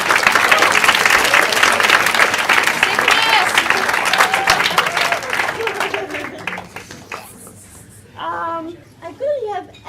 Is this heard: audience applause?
yes